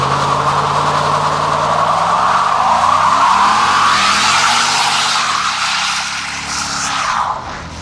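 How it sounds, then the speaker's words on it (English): A police car does a burnout, its tires skidding and squealing loudly and steadily for several seconds over a roaring engine before tapering off near the end. "I think we're just gonna do like a fun little burnout"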